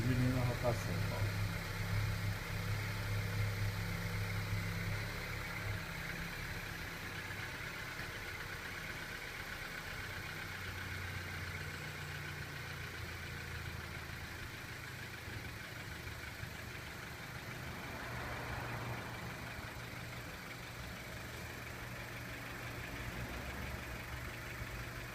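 After sitting for two days, a car engine idles following a cold start, with a steady low hum and rumble throughout and the revs easing slightly. Quiet and continuous, with people talking faintly now and then.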